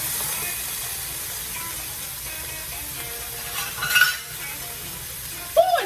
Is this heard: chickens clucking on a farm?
no